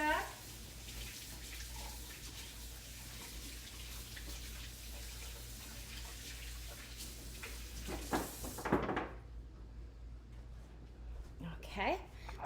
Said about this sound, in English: So I'm gonna wash my hands because they're messy.